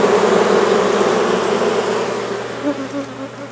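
Dense, steady buzzing of many bees from a colony inside a tree being cut open for removal, close and continuous with a faint low hum underneath, easing slightly toward the end.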